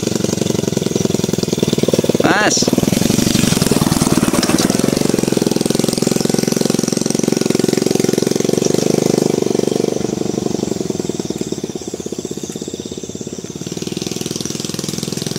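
A motorcycle engine chugs steadily along a narrow path through rice fields, its rough, knocking putter loud and continuous, briefly swelling then easing, with a short spoken word near the start.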